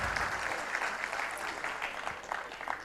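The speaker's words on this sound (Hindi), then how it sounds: "दाद तालियां बजा के।" Steady, dense applause from a mushaira poetry recital audience in Patiala, Punjab, a full crowd clapping continuously at a fairly even level with no pauses or talk.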